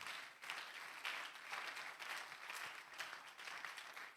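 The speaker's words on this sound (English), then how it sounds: "clap for yourself for not only coming, for staying, for learning." An audience claps in a hall, a steady, fairly faint wash of applause without pauses.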